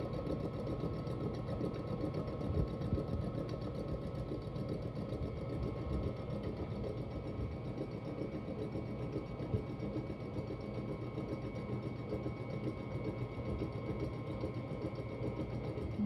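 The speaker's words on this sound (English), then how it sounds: "you keep beating up those eggs with the sugar" An electric mixer beats eggs with sugar into a thick batter, giving a steady, continuous mid-pitched motor whir with a faint rattle, holding evenly close by for the whole stretch without pause.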